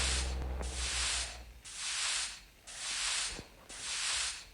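Four evenly spaced hissing bursts from a spray-bottle cleaner in the Toca Boca game, each lasting about half a second with short gaps between, fairly loud and clear over a faint low hum.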